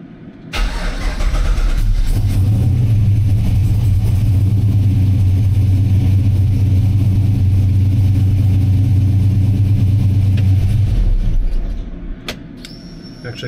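A Chevrolet C10 fitted with Holley Terminator X fuel injection cranks and fires, then settles into a loud, steady, deep idle for about ten seconds before shutting off, heard close up.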